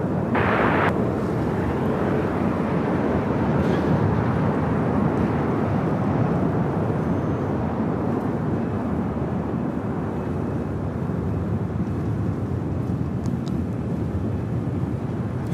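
Airliner taking off from a LAX runway, a continuous broad jet engine roar heard from a distance, steady and sustained for the whole stretch with no talk.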